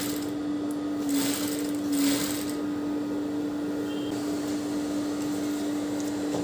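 Sewing machine running steadily while stitching falls onto a plain saree, a continuous mechanical hum with a sustained tone, fairly close and alone without talk.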